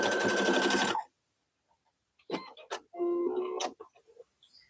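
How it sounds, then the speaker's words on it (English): A sewing machine stitches a straight line across fabric for a mini key chain bag charm, one short buzzing run that stops abruptly, followed by quiet handling clicks and a couple of brief machine whirs. "now go ahead and sew a straight line across both sides"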